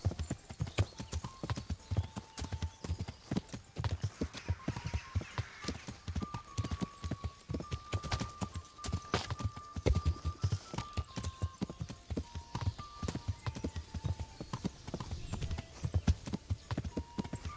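A horse's hooves clip-clop in a steady, rapid gallop in the medieval game Kingdom Come: Deliverance, loud and continuous, with a faint music-like tone drifting underneath.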